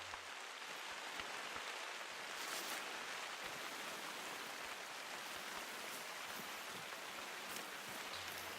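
Rain in The Hunter: Call of the Wild forms an even, faint wash of hiss with occasional patters of drops, continuous and unbroken, and no voices are heard over it.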